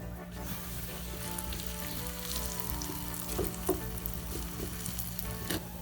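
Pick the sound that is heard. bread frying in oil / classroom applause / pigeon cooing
bread frying in oil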